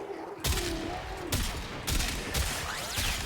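Kuva Quartakk rifle in the Warframe video game firing in automatic mode: four heavy, booming shots about half a second to a second apart, with sharp attacks and long bright rumbling tails filling the gaps, close and loud.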